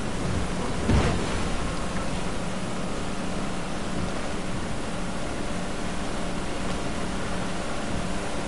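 Thunderstorm in a video game: a steady, heavy hiss of rain runs throughout, with one sharp crack of thunder near the start before the downpour carries on alone.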